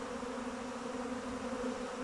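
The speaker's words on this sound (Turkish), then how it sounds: "Arılar geliyor şu anda." Honeybees swarming in, heard as a continuous droning buzz from many wings, steady and fairly close with slight swells in loudness, and no talking.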